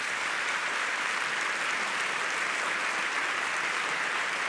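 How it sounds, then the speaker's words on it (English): A conference audience applauds a panel on Ukraine, Finland and the UK in Helsinki, a steady dense wash of clapping from a full room that holds evenly throughout with no voices over it. "please give our panel the very warmest applause."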